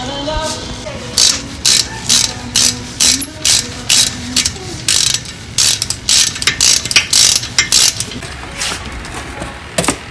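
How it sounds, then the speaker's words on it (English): A ratchet clicks in quick repeated bursts, tightening a lug nut during a front brake pad and rotor job on a Ford Explorer, the rapid pawl clatter loud and close, with brief pauses between strokes. "Tighten the lug nut so it won't fall."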